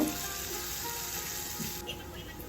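Chopped onions fry in oil in a pan, a steady soft sizzle and crackle running throughout at moderate level.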